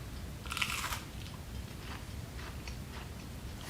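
A crisp bite into a panko-breaded onion ring, one sharp crunch followed by softer chewing crackles, close and alone.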